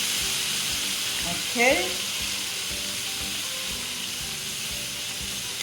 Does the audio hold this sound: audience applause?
no